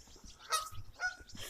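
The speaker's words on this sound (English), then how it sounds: "Look at these two geese" Two geese honk faintly outdoors, a couple of short, nasal calls spaced apart over quiet background rustle.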